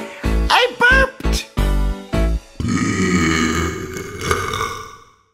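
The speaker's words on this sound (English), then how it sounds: "he said, I burped!" A loud, drawn-out burp follows several short bursts of a voice, the belch rumbling for a couple of seconds before trailing off into silence.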